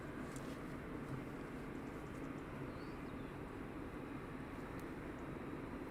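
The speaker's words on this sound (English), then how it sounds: "And Mark Parto, Texans sound awesome in full pelt" A Texan T1 trainer aircraft flies at full power over RAF Valley, its engine a distant, steady roar that holds for several seconds without any talking.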